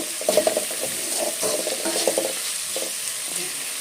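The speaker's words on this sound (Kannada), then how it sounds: "ಸ್ವಲ್ಪ ಅಸಿ ಮೆಣಸಿನಕಾಯಿ ಎಲ್ಲಾ ಖಾರ ಬಿಡಬೇಕು ಅಲ್ಲಿ ತನಕ ಫ್ರೈ ಮಾಡ್ಕೊಬೇಕು" Green chilies frying in a pan, with steady sizzling and repeated stirring scrapes and clinks of a utensil against the pan, close and moderately loud, no voices.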